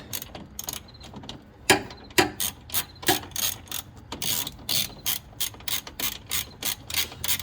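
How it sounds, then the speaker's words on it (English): Ratchet clicking in repeated bursts while bolts on the suspension of a Camaro ZL1 1LE are tightened, close and fairly loud, with short regular strokes and brief pauses, no talking. "So we'll tighten these back up"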